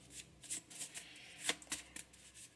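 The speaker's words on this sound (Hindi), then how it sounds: "जैसे मैंने महादेव के कार्ड हाथ में लिए" Hand-shuffled Mahadev tarot cards give a series of quick, crisp riffling bursts and soft slaps at close range, quiet and with no talking.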